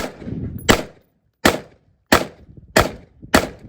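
Five sharp AR-15 rifle shots ring out at an uneven, steady pace, loud and close on an outdoor range, each with a short decaying tail and a pause between them.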